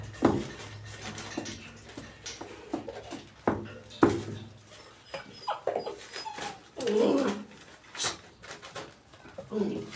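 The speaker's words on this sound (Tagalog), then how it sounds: "Umiiyak kasi itong cute kong aso eh." A small pet dog crying and whimpering in short, soft, intermittent whines amid scattered rustling and handling noise, with a person speaking nearby.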